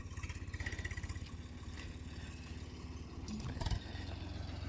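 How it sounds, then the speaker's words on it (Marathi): A tractor engine runs steadily in a sugarcane field being ploughed, a low, even chugging drone at moderate distance with a brief rise in intensity near the end. "हे ट्रॅक्टर"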